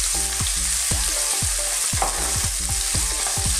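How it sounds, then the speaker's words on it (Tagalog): Onion and chili sauté in a pan, a loud continuous sizzle broken by frequent rhythmic scraping and knocking strokes of a spoon stirring them. "Susunod na po natin ang sibuyas, ang chili. Again, haluin natin a few minutes."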